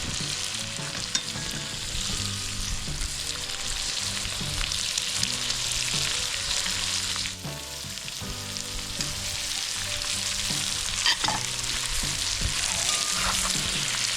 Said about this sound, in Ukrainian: Цибулька з морковкою вже теж досить гарно підсмажились